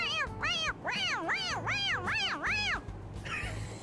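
A stuffed toy cat from Persona 5 Royal gives a run of about six loud, close, wavering meows in quick succession, each rising and falling, with game noise low beneath.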